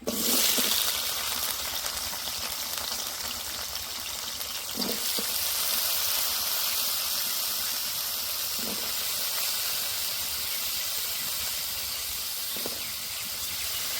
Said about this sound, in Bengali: আলু ভাজার তেলে আমি এঁচড়গুলো ভেজে নেব।